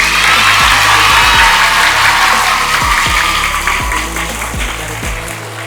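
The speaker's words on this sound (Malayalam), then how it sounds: "എല്ലാവരും കൈയടിച്ചത് അവിടെ" Students clap at a school event marking the start of the Soccer Mania programme at GVHSS Nandikara. The loud, dense applause runs steadily throughout, with low thumps underneath, and eases slightly toward the end.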